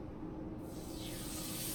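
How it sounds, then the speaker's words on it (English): Lamb chops sear in a hot, lightly oiled pan, a steady close sizzling hiss that swells louder as more meat goes in. "You hear that sear, that's how you know your pan is hot."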